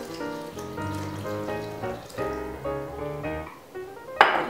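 About a cup and a half of water pours steadily into a blender jar with smoothie ingredients, a continuous gurgling, splashing stream close by with no talking.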